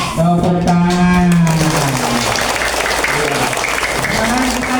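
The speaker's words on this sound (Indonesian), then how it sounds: "Tepuk tangan." A group of children at an anti-bullying session claps together. An adult voice speaks briefly at the start, then a loud, dense wash of small hands keeps going steadily to the end.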